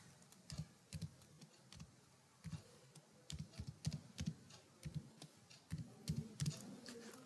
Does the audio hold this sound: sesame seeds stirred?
no